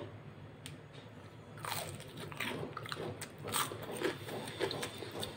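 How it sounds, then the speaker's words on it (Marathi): Someone bites into crispy mixed-lentil and spinach pakoras, giving a run of loud, close crunches and chewing that builds over several seconds with no speech. "खूप कुरकुरीत बघा कसा आवाज येतो"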